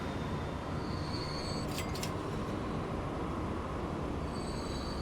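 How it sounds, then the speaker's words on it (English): A train in the game Transport Fever 2 rolls past with continuous rail noise and a brief sharp wheel squeal, steady and fairly loud throughout. "Oh, that's the new train coming in."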